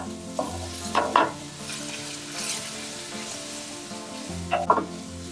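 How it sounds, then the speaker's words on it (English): Minced garlic fries in oil with a steady close sizzle, broken by a few scraping stirs of a spoon in the pan near the start and end; no one speaks. "Next, add the garlic minced. Fry for 30 seconds."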